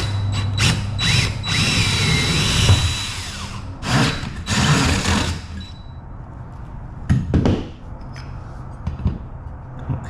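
A power drill bores a big hole in a floor in bursts, loud whirring and grinding runs separated by pauses, then a few shorter, quieter bursts toward the end.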